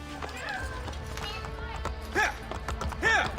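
Galloping horse in the Assassin's Creed Brotherhood video game, steady hoofbeats under game music and effects, with a couple of louder whooshing swells; no talk over it.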